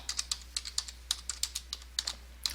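Keys clatter on a computer keyboard as a header is typed into a Microsoft Word 2007 document, a quick, even run of close taps with no talking.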